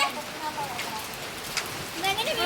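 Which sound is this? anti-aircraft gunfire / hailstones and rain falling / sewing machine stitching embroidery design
hailstones and rain falling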